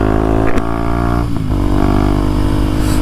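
A motorcycle engine runs loud and close with a steady rumbling drone, and brief blips of throttle rise and fall twice as the bike revs.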